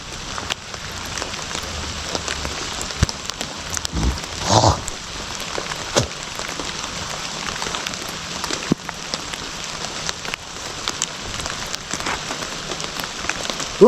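Rain falling on a hillside farm, steady dense patter of drops on surfaces with occasional louder splashes, continuous and close, with no voices.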